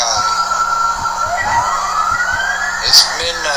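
Emergency sirens wail outdoors at midnight, slow rising sweeps at moderate distance over a steady background hum, with a person speaking over them.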